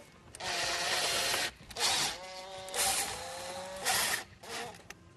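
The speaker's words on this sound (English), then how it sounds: "now all we have to do is install our 4 screws." A power driver runs in several whirring bursts of a second or so each, driving four screws into a Dodge Ram radio bezel. The sound is close and loud and separated by short pauses.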